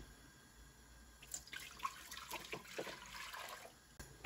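Tap water pours into a pot for a Portuguese meat rissole dough, starting after a quiet moment as a close, splashing gush that runs steadily for a few seconds before easing off.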